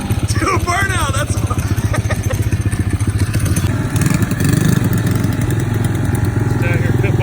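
A small Suzuki ALT 50 three-wheeler runs on a drag strip during a burnout, its little engine chattering and revving in a rapid, close, rough pulse, with people talking and whooping over it.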